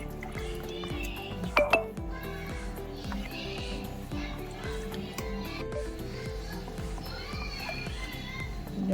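Flour and salt batter stirred in a bowl to dissolve the lumps, a steady rhythmic scraping and sloshing repeating about twice a second throughout, with a couple of sharp clinks near the start.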